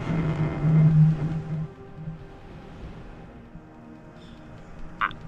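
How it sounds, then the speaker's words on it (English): Gentle ocean waves lap below a hotel balcony on the Riviera Maya, a soft continuous wash with a fuller swell early on, faint and distant, with no one talking. "I don't know if you can hear the waves just lapping in the background"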